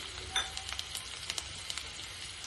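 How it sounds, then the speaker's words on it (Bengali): Chopped garlic sizzles in melted butter as a base for pav bhaji, a fairly quiet, steady crackling fry dotted with small clinks and scrapes. "বাটার দিয়ে দিলাম দিয়ে এর মধ্যে আমি রসুন কুচি দিয়ে দেবো"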